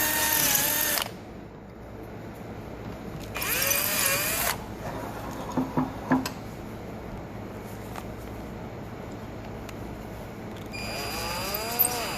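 A power drill whines in a few loud bursts, smoothing a metal part, separated by quieter stretches of scraping and clanking as metal is worked.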